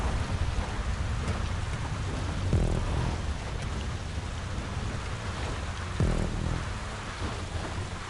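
Steady heavy rain hisses throughout a nighttime stage of the PS5 rally game WORC, with two deeper rumbling swells breaking through the constant downpour.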